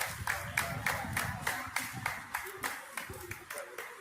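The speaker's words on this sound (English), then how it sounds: "And they're clapping." A group of people claps in a steady, even rhythm, about three claps a second, at a public gathering outdoors, with murmuring voices underneath.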